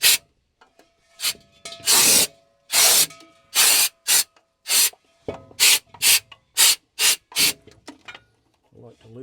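Compressed air blasts dirt off the engine parts of an old V12 supercharged two-stroke GM Detroit diesel on a long-idle dump truck, a string of short loud hissing bursts of varying length separated by pauses, with faint scraping between them.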